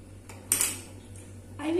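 A spoon scrapes and clinks against a pan while mixing chicken with tomato ketchup and soya sauce. There are a couple of brief, fairly quiet strokes over a low steady hum.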